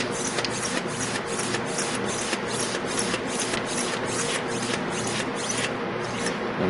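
A hand pump pressurises a vehicle coolant system, giving a steady series of rhythmic rasping strokes, about a dozen evenly spaced pumps, close and moderately loud.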